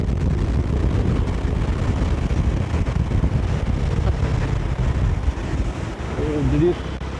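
A Bajaj Dominar 400 motorcycle ridden at high speed, a steady loud roar of wind buffeting the microphone masking the engine, with a brief rising whine near the end.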